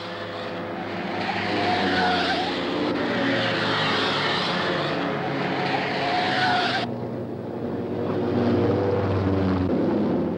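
Race cars at the 1966 Gallaher 500 at Bathurst, a mixed field of big cars and Minis, roar past in a loud continuous engine drone with a sudden cutoff of the high whine partway, then lower rumbling continues.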